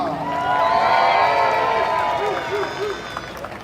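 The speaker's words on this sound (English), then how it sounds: "that loudest cheer was because he has so many grandchildren" A crowd at an Obon Festival in Mountain View cheers and applauds, a sustained swell of shouts and clapping that peaks early and tapers off, with a voice over it near the end.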